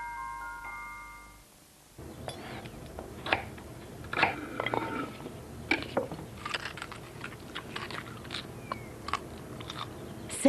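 Crisp crunching bites of fresh salad with Boursin cheese, several close chewing crunches in an irregular rhythm after a short musical tone at the start.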